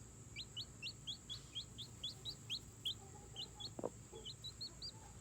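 A newly hatched baby chicken peeps in a steady series of high, quick chirps, faint and close, with a brief lower cluck from an adult hen partway through.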